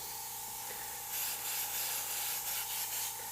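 An airbrush sprays opaque paint to add texture and grit, giving a steady close hiss with a brief louder burst midway and a faint constant tone beneath.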